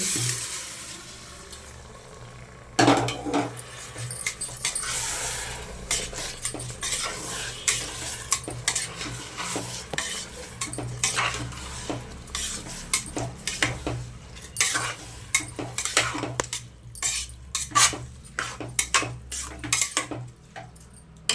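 A spoon repeatedly scrapes and clatters against a pan while washed rice sizzles steadily as it fries for egg biryani, the stirring coming in irregular bursts.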